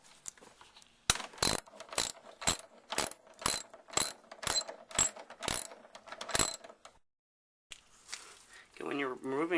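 Half-inch socket ratchet loosening weight bolts on the outer tub of a Whirlpool Duet or Kenmore Elite washer, a close, crisp series of about a dozen evenly spaced clicks, then a pause and a brief scrape, with faint speech toward the end.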